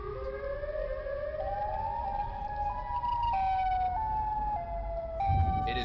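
A creature with two tooth-lined sirens for a head emits an emergency-broadcast style siren, a sustained wailing tone stepping up and down in pitch, steady and fairly loud, with a thump near the end.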